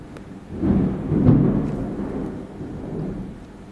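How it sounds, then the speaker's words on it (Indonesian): Thunder rolls in the Zoonomaly video game, a deep, sustained rumble that swells and lingers with a rain-like hiss underneath, with no voices. "Ini guntur petir-petir hebat nih di sini."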